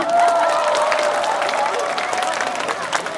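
An audience at an outdoor music festival at Kolon Outdoor Music Hall in Daegu applauds steadily with dense, sustained clapping that fills the whole stretch, loud and close, without letting up.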